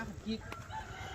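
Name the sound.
chicken crowing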